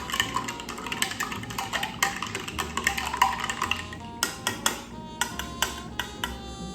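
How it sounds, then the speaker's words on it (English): A spoon clinks against a glass as a drink is stirred, a run of bright metallic taps and rings, some spaced and some quick, close up with no talking. "And give it a good little stir."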